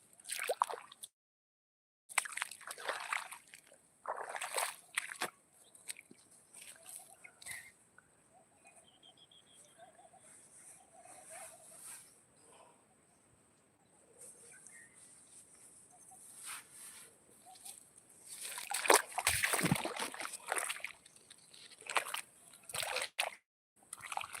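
Intermittent splashing and trickling water from watering comes in irregular bursts, louder near the end, with quiet stretches between.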